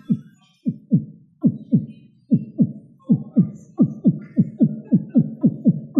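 A man imitates a heartbeat with his voice and a closed mouth, producing steady low double-thump pulses that speed up slightly and grow louder over several seconds.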